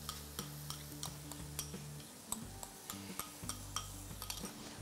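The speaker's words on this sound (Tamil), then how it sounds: "இந்த ஸ்டேஜில் நம்ம அரைச்சி வச்சுருக்க அந்த 3 தக்காளியுடைய பியூரி" Pureed tomato from three tomatoes going into a pan of sautéed onions for Kadalai curry, with steady sizzling and repeated clinks of a spoon stirring against the pan.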